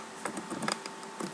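A computer keyboard is typed on while Java code is written, with quick, close, irregular key clicks and taps over a brief stretch.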